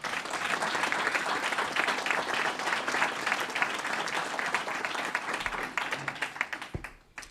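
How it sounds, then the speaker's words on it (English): Sustained crowd applause at a Boston Police Department luncheon, a thick continuous patter of many hands that holds steady and then tapers off at the end. "So please give the city of Boston a round of applause"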